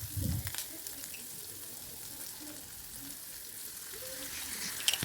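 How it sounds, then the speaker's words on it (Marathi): Paneer chilli stir-frying in a pan just after soy sauce goes in, a steady close sizzle and crackle with faint stirring scrapes throughout and no talking. "सोया सॉस टाकल्यानंतर व्यवस्थित परतून घ्यायचे"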